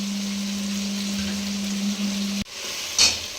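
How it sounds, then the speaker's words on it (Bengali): Spice paste for duck curry fried and stirred in a pan, a steady soft sizzle with a constant low hum, broken by a sudden clunk and a short scrape of stirring. "মশলাটা এবার আমি একটুখানি করে নিলাম, নেড়ে নিলাম"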